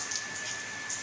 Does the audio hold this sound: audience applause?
no